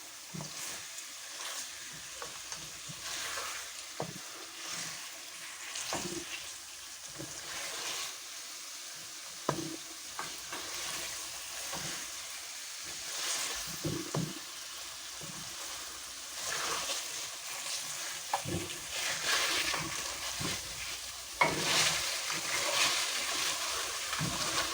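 Taro root curry with meat frying in a pan gives a soft, steady sizzle with scattered stirring scrapes and clinks, fairly quiet and with no talking.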